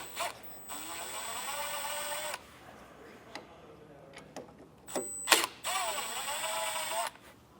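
A cordless driver with a T15 star bit backs two screws out of the hood catch on a 2025 Chevrolet, giving two long whirring runs separated by quiet pauses and a few sharp clicks nearby.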